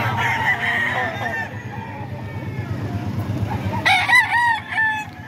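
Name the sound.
chickens, Boston breed, crowing and clucking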